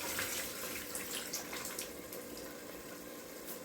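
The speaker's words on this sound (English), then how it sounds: "I'm just going to drain the water." Water pours and splashes steadily into a sink as it is drained from a cooking pot, a continuous close rushing stream with no voices.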